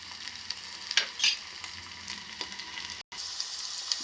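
Onions sizzling and frying in a pan, a steady bright crackle with a few sharper stirring scrapes and spatters, close and fairly quiet, with no talking.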